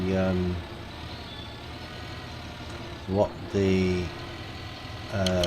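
Tractor engine in the farming video game Pure Farming 2018, a steady mid-pitched idling rumble running throughout, with someone talking over it at intervals.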